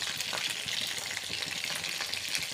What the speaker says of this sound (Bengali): তো দেখুন খুব সুন্দরভাবে ভাজা হয়ে যাচ্ছে